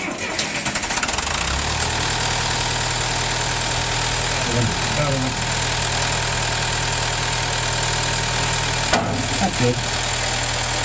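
A John Deere 2020 diesel tractor fitted with a loader cranks and fires up at a farm auction, then settles into a steady, loud, close idle with a low harmonic rumble. People talk briefly over the engine.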